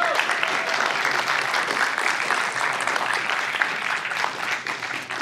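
A cinema audience at the White Cinema applauds before a One Piece episode 1000 screening, loud continuous clapping from a packed room that holds steady throughout, with faint voices mixed into the crowd.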